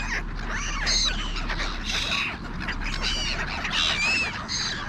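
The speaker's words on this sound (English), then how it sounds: "I guess it was just the gulls reacting to the sausage" Several gulls call repeatedly near a car dealership lot as they react to a sausage, their sharp, overlapping cries rising and falling close by over steady outdoor ambience.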